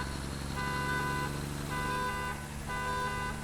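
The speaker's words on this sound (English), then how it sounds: "I think the truck and most of the sound development of this game is great, but whoever decided to create the horn is just disappointing" A truck horn in the factory-building game Satisfactory sounds three times, each a steady tonal blast of about a second with short gaps, over a continuous engine rumble.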